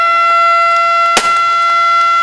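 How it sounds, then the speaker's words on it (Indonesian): A loud, steady siren wails with a sustained tone at a launch ceremony, broken briefly by a sharp thump partway through. "Dengan ditekankan sirine"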